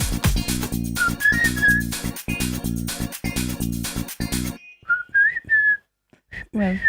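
A person whistling a short tune, clear bright melodic notes in quick phrases over a steady rhythmic backing beat, then a few softer whistled notes continuing alone after the music stops.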